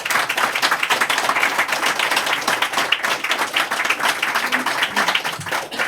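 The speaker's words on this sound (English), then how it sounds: "Could you please give them a round of applause?" A steady, dense round of audience applause at a live music session, continuing evenly at close range throughout with no talking over it.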